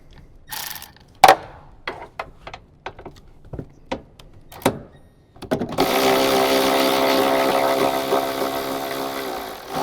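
A ratchet wrench fitted with a 10mm socket works loose a factory ground bolt inside a Toyota Tacoma, giving a string of sharp, close clicks. A steady mechanical whir follows and holds to the end.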